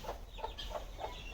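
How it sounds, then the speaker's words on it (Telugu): Kadaknath, native and Aseel chickens clucking on a farm, about five short rhythmic clucks at a steady pace, moderately close, with no talking. "ఇట్లా కడక్నాథ్ కోళ్ళు ఉన్నాయి, నాటుకోళ్ళు ఉన్నాయి, అసీల్ జాతి ఉన్నాయి"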